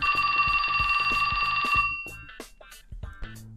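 A mobile phone ringtone in the video game 428 Shibuya Scramble, set in Shibuya: a steady electronic ringing lasts about two seconds over a rhythmic music beat, then cuts off and the music carries on.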